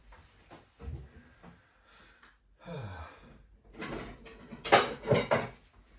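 A larger mixing bowl being fetched and handled in a home kitchen while preparing a Ninja Creami recipe: scattered soft knocks early on, then a cluster of loud ceramic and metal clatters and clinks near the end, with no voices.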